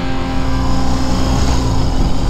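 A 2021 BMW R18 First Edition motorcycle with its large boxer engine revving in rock mode, a loud, continuous low rumble with steady throttle pulses throughout.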